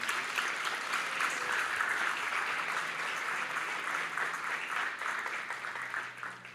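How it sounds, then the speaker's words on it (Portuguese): A church congregation claps steadily during a Sunday service, a quiet, even wash of applause that fades slightly toward the end. "Você pode aplaudir o Senhor pelo que Ele é"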